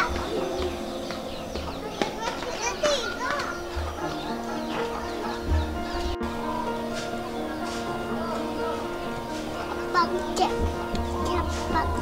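Chickens cluck and coo amid background bird calls, with children's voices chattering and playing throughout, as the chickens eat cat food alongside cats.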